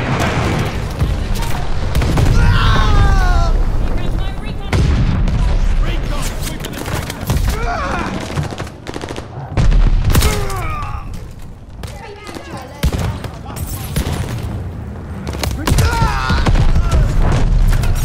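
Bombing and gunfire in the video game COD Vanguard: dense, loud booms and rapid bursts of shots rumble almost continuously, with groaning and speaking voices layered over the battle.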